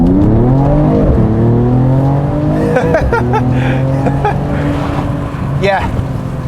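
A 2022 Mercedes E53 AMG pulls away from a dead stop, its engine note climbing loudly through the gears with brief dips at each shift, heard from inside the car.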